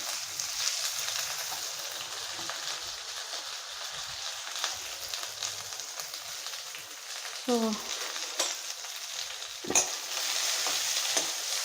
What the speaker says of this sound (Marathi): ह्यामध्ये मी थोडंसं जिरे मोहरीचा तडका देणार आहे त्यानंतर मी घातलेला आहे कढीपत्ता कढीपत्ता घातल्यानंतर मी घालणार आहे भरपूर असा कांदा आणि हिरवी मिरची